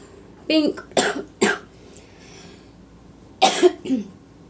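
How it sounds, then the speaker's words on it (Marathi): Several sharp coughs in two bursts, close by, with a short quiet pause between them. "खूप खोकला येते मला"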